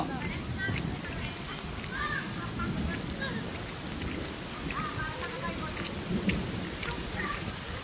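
Steady rain falls in a thick, continuous downpour of foam-like rain in the Thrissur area, with a constant hiss of drops on surfaces and no talking.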